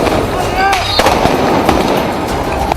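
Gunfire during protest clashes in Beirut, with sharp cracking bursts over a loud, dense crowd roar and a voice talking, heard continuously at high volume.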